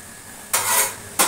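Tempering spices hit hot oil in a saucepan for a bitter dal, bursting into two loud close sizzling hisses, the first sustained and the second brief, with no talking.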